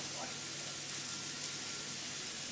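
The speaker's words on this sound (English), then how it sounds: "the silver beet can get sauteed nicely with the onions and the garlic" Silver beet sautéing in a pan with onions and garlic, a faint, steady sizzle throughout, quiet and close.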